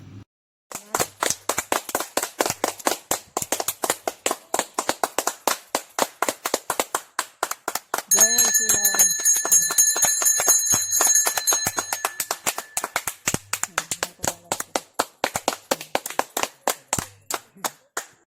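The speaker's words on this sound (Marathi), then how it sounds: "आता बघा टाळी वाजवली की त्यातनं बुडबुडे कसे निघतात" Hand claps ring out beside a village water pond in Venkatapur that sends up bubbles when people clap, a long run of sharp, evenly spaced claps near the listener, with a brief stretch of talk and a faint tone partway through.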